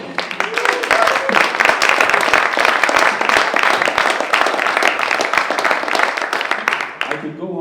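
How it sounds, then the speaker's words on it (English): A dense, loud round of audience applause for a hip-hop journalist at a panel event, sustained evenly for several seconds before tapering off. "Let's give him a round of applause."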